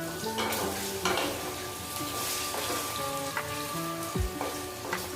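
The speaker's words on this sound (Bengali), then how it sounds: "আর এই আলুটা হালকা একটু ফ্রাই করে নিলে" Potatoes frying in a pan of hot oil, a steady broadband sizzle with a few clinks of utensils and stirring. Background voices and music murmur faintly underneath throughout.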